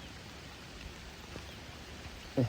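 Rain falls steadily outdoors among trees as a faint, even hiss, with a single brief louder knock near the end.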